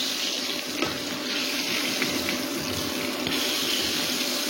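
Chicken pieces deep-frying in plenty of hot oil over a high flame, a steady, dense hiss that holds nearly level throughout with a few faint pops and crackles, close by and with no voices.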